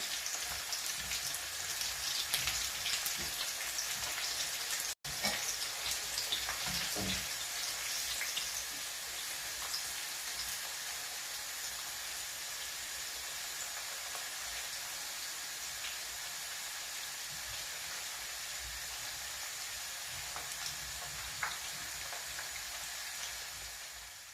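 Zucchini for Syrian stuffed-zucchini frying in a pan as it turns light golden: a steady, dense sizzle and crackle throughout, close and fairly loud, with no voices.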